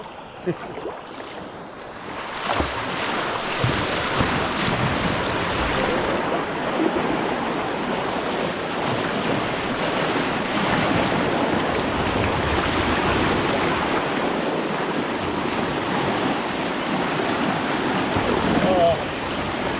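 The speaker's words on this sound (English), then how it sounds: "I've been listening to this wave all night" River rapids rushing on the Sacramento River, a steady broad roar of churning water that swells up after a quiet start and holds loud and close throughout, with wind buffeting the microphone.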